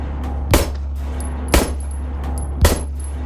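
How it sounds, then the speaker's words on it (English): Three sharp gunshot blasts in the video game Signalis, spaced about a second apart over a constant electronic hum and faint tones. "gunshots sound real nice in this game."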